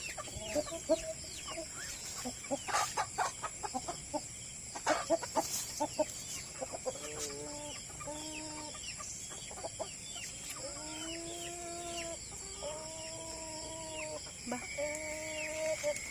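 Rhode Island Red chickens cluck repeatedly, with short rhythmic bursts of calls and a few sharper squawks, fairly close and without talk.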